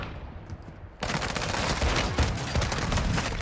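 Sustained rapid gunfire from the Warzone battle royale game, starting abruptly after a quiet second and continuing as dense, loud bursts to the end.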